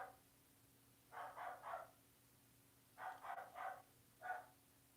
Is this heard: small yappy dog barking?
yes